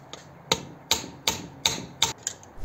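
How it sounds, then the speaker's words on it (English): Six sharp metallic hammer strikes on a socket to loosen engine valve keepers, evenly spaced about a beat apart, each ringing briefly, close and loud. "I'll begin by using a socket and a hammer to loosen the keepers."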